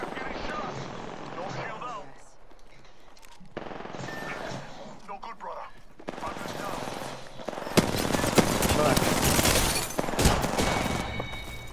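Apex Legends firefight: bursts of rapid automatic gunfire and single shots, near and loud, come in clusters and grow denser toward the end, with players talking between and over the shooting.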